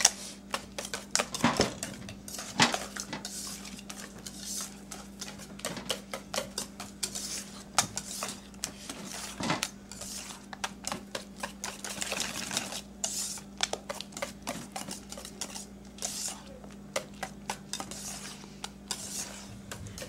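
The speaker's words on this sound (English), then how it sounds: "whisking, whisking, whisking." A whisk clatters rapidly against a bowl, a dense run of small clicks and scrapes in a busy rhythm for about twenty seconds, close and fairly quiet, with no talking, while bacon dishes are being put together.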